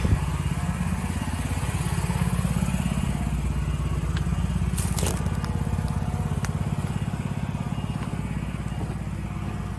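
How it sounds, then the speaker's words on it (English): A generator runs at an underground oil tank removal site in Goshen, NY, a steady loud low-pitched engine drone with rapid pulsing throughout, joined by a brief sharp clatter midway, no clear talking. "got the generator running"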